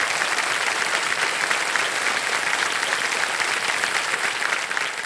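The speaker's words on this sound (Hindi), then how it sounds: "तालियां बज जाएं सुरुचि जी के लिए।" Studio audience applause on a TV quiz show, a sustained, dense roar of many hands clapping evenly for about five seconds, full and enveloping with no talk over it.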